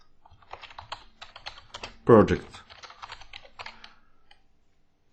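Computer keyboard typing while naming a Python data analysis notebook, quick irregular clicks throughout with one louder, denser burst of keystrokes near the middle; a voice speaks briefly over it.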